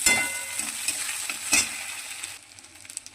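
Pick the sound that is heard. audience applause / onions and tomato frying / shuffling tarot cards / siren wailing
onions and tomato frying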